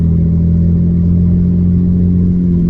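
Straight-piped Porsche Cayman S engine droning at a steady, loud, deep hum while cruising, with no talking.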